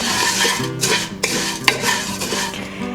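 Fideo noodles toast in olive oil in a pot while being stirred, a continuous sizzle broken by scraping utensil strokes and a few sharp clinks against the pan.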